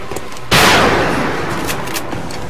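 A single loud gunshot in XCOM cracks out sharply and then rings into a long, slowly fading noisy tail, with faint clicks and ticks of game sound around it.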